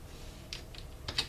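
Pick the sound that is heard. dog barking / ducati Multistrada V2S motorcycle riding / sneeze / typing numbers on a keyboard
typing numbers on a keyboard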